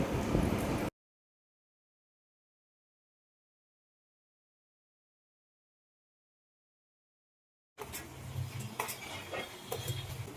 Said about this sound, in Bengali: মজরেলা চেস্টা দিয়ে ভালো করে নাড়তে হবে